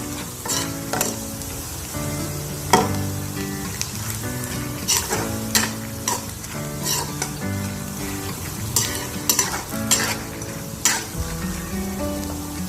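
Peanuts and plenty of garlic frying for adobo in a pan, with a steady sizzle and repeated scraping stirs and clinks of a utensil against the pan, close and alone.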